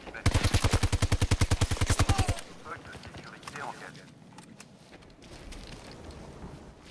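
A rapid automatic gunfire burst in the video game Battlefield 2042 fires about twenty evenly spaced shots in two seconds, loud and close, followed by quieter scattered battlefield noise and a voice.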